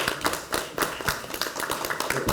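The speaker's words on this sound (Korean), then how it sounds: "박수" Scattered clapping breaks out at a Bareunmirae Party leadership meeting, a modest group of hands striking in uneven, fairly close bursts rather than a full crowd roar.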